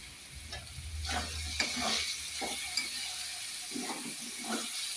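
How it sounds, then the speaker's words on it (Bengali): Onion, spices and three bay leaves fry in a pan with a steady low sizzle, punctuated by scraping stirs and clinks of a utensil against the pan, close and alone with no voices. "ভালো করে পেঁয়াজটা সব মশলাগুলো ভেজে নেব।"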